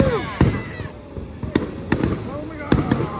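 Fireworks bursting over Niagara Falls at night, a series of sharp, loud bangs and crackles with whistling rising shells between them, while a crowd talks and cheers nearby.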